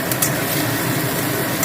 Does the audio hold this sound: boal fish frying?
yes